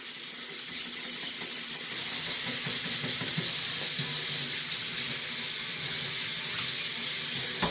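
Tap water runs steadily into a sink while paintbrushes are rinsed under the stream, a close, continuous splashing hiss that swells slightly as the brushes move through the flow, with no talk.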